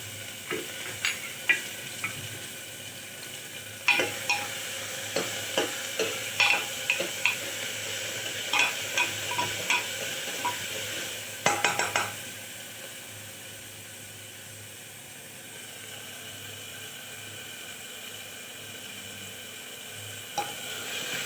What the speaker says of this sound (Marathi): कांदा आपण थोडा लालसर कलरनं भाजून घेऊ.